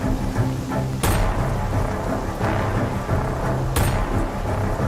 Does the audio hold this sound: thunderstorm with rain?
yes